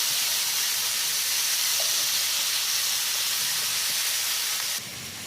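Paneer and capsicum sauté with kitchen king masala and salt in a hot pan, producing a loud, continuous close sizzle and hiss that drops noticeably just before the end.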